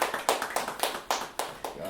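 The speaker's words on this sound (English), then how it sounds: "All right, y'all can cheer now." Scattered audience claps at a poetry open mic, a handful of irregular hand slaps with some cheering voices mixed in, fairly close and short-lived.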